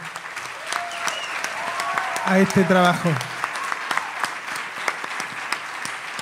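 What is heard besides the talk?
audience applause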